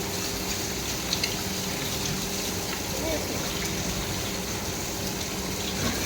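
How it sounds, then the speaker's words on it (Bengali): Boiled potatoes being rinsed in water, a steady close gush and splash of running water that continues evenly throughout. "দেখো আলুটাকে সিদ্ধ করে জলে ধুয়ে নিচ্ছি।"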